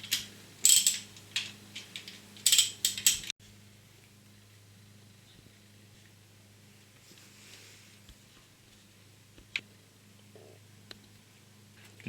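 Metal clatter and ratcheting clicks from loosening the camshaft bearing caps on a Porsche 944 S2 engine, with a cluster of close, busy bursts early on, then a quiet stretch broken by a few isolated ticks.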